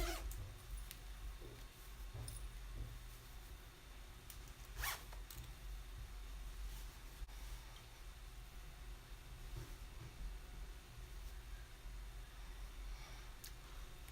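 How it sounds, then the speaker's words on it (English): A zipper on a Wonder Woman costume being pulled up in a few bursts of rasping zips over steady background noise, with rustling of fabric and no talking. "If I can zip it."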